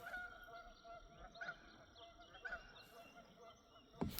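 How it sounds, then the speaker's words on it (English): Geese at a quiet valley lake in Missouri honk intermittently from a distance, faint repeated calls over soft outdoor ambience, with one sharper sound near the end. "Hear them geese."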